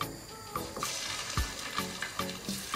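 Chicken frying in cooking oil in a wok, a steady close sizzle with faint clinks of stirring throughout, no voices.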